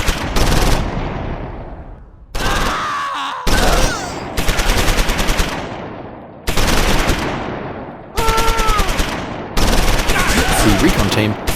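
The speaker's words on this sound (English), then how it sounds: "The recon team fire at them from the tower." Close Combat 4 Battle of the Bulge battle at Esch-sur-Sûre, 1944: loud bursts of machine-gun and rifle fire in rapid clusters, separated by brief pauses, with faint whistling tones in between.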